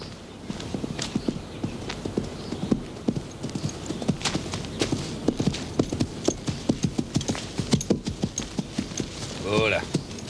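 Horse hooves clip-clop in a steady, fairly close walking rhythm, with a brief whinny near the end.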